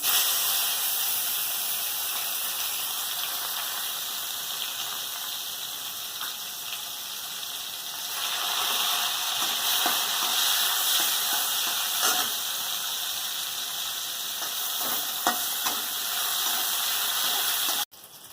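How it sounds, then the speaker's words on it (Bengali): Loud, steady hiss of bitter gourd frying in hot oil, continuous and close, with occasional crackles, ending abruptly. "উচ্ছেগুলো তেলের মধ্যে দেবো।"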